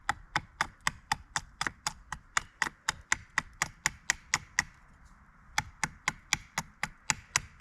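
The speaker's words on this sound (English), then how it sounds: "first, light chopping. And then carve the rest off." Ka-Bar Becker BK9 knife chopping lightly at a wooden peg point outdoors, making a steady run of crisp, evenly spaced blows with one brief pause midway, close and distinct.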